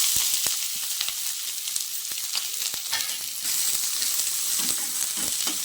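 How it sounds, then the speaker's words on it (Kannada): Onions frying in oil in a pan for an egg and chicken curry, a steady bright sizzle with occasional soft stirring clicks, close and continuous with no talk. "ಈಗ ಈರುಳ್ಳಿ ಸ್ವಲ್ಪ ಚೆನ್ನಾಗಿ ಕೆಂಪಗಾಗೋವರೆಗೂ ಹುರ್ಕೊಳ್ಳೋಣ"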